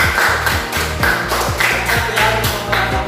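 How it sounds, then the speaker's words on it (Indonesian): Classroom students clap for a group's poster during a lesson: rhythmic, unison clapping in a steady repeated beat, loud and close, with a low droning tone underneath and no talk. "Oke, beri tepuk tangan untuk kelompok Asami"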